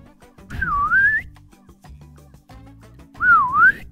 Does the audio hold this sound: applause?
no